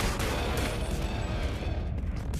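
Dense, continuous barrage of gunfire in the VR video game BONELAB, with overlapping shots and crashes packed tightly over a loud, unbroken roar.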